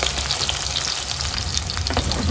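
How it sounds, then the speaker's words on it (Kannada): Chopped onions fry in hot oil with mustard seeds for a wedding-style beans palya, giving a steady, close, fairly loud sizzle with dense crackling and spluttering throughout and no voices. "ಸಾಸಿವೆ ಚಿಟಪಟ ಅನ್ನುವಾಗ 3 ಈರುಳ್ಳಿನ ಕಟ್ ಮಾಡಿ ಸೇರಿಸ್ಕೊಳ್ತಾ ಇದ್ದೀನಿ"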